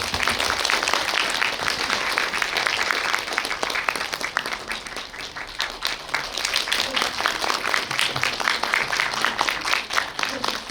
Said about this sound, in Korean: 그럼 박수로 두 분 모시도록 하겠습니다.